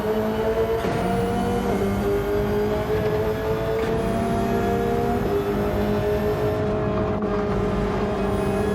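Race cars in a pro-am circuit race charge through a braking zone, a loud sustained engine drone from on board with pitch dropping and climbing through gear changes and deceleration, no voices.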